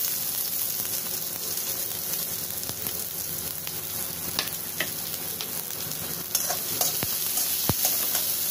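Sliced onions sizzle steadily in two tablespoons of hot oil in a kadai, a continuous close hiss with occasional stirring scrapes and a couple of sharp clicks near the end, no voices.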